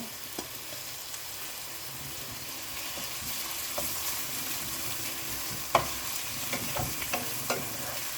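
Crushed ginger, garlic and curry leaves sautéing in oil for seeraga samba chicken biryani, a steady soft sizzle with occasional sharper pops and stirring taps, close by and alone.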